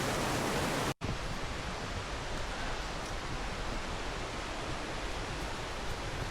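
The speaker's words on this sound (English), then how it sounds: "So we are approaching what is considered the base of the falls." Raven Cliff Falls in the North Georgia woods, heard near its base as a loud, unbroken roar of rushing water with a momentary cut just under a second in, then steady to the end.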